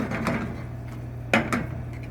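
Linguine being tossed into Alfredo sauce in a pan, with a few sharp clinks and scrapes of a utensil against the pan over a low steady hum.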